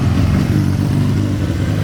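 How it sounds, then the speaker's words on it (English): A couple of motorcycles pass on a rural street, a loud mid-pitched engine roar with some clatter held steady throughout, close by and with no talking. "a couple of motorcycles with enough space to pass"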